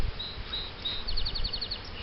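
Honeybees buzz around an open hive as frames are handled, a steady close drone with brief higher whines from bees passing near.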